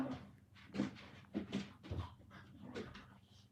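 Dogs just outside a door, a series of faint, muffled whimpers and short yips spread unevenly over a few seconds, distant-sounding under a quiet indoor background.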